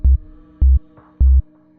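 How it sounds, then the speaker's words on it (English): A low sine-wave 808 bass tone made in FL Studio 20 plays three short, deep, evenly spaced notes, loud and clean, each pulse alone with nothing else heard. "We can hear we have a bit of a bass tone."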